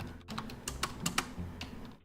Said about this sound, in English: typing out the exact same thing I typed out before